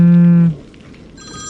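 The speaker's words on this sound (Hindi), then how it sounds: "उसका फोन कब से बजे जा रहा था" A phone rings indoors: a short electronic tone breaks off after half a second, and after a pause a higher ringing tone starts.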